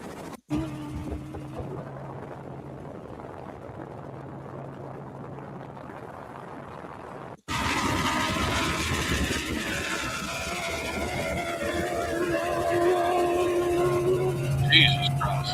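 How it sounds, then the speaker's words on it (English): Cadillac Northstar V8 engine running, a loud, harsh buzzing drone that starts abruptly partway through and holds steady to the end, with people talking over it. "What engine is that? North Star from a Cadillac."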